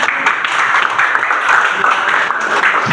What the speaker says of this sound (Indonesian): tepuk tangan untuk Putri Agung